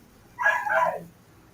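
A pet puppy gives a short burst of high, yipping barks lasting under a second, fairly close and alone, with quiet surroundings before and after.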